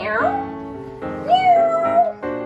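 A human voice imitates a cat, giving a few drawn-out, rising and falling meows in close succession, loud and near.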